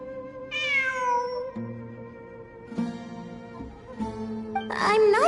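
A cat in the Genshin Impact video game meows several times, clear, drawn-out, rising-and-falling calls over a sustained in-game musical tone, with a louder cry at the end.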